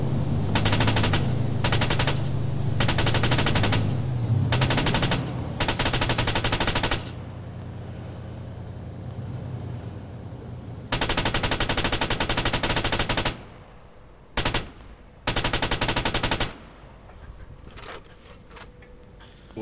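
Loud, close automatic gunfire in the military shooter Arma, rattling out in long sustained bursts and shorter volleys with brief gaps between them.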